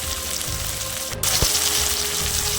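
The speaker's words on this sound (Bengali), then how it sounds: "আমি টমাটারটা ভালো করে ভেজে নেবো" Tomatoes with salt fry in a pan, giving a close, steady sizzle and crackle with a faint tap of a utensil against the pan partway through; no talking.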